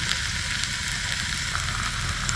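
Sliced pork belly sizzles steadily in a pan with chili paste, a close, even frying hiss with small pops and no talk.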